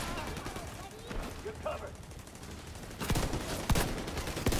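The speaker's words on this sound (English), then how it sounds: "I'm getting snipered by somewhere and I don't know where" Gunfire in The Division 2 during an online match, a burst of loud rapid shots near the end over a steady background of game ambience and chatter.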